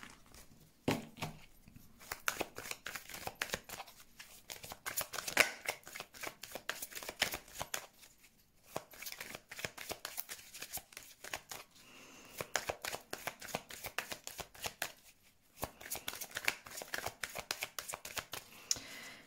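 Tarot cards are shuffled by hand in a steady run of soft, papery riffles and flicks, close and fairly quiet, with brief pauses between bursts and no talking.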